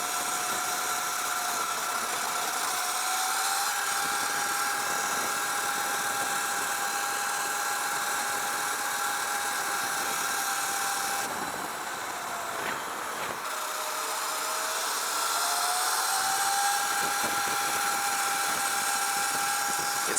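A KO Moto factory spec Sur Ron Light Bee electric motorbike rides through a city with its power limited, giving a steady high motor whine over road and wind noise that dips briefly midway and then rises again.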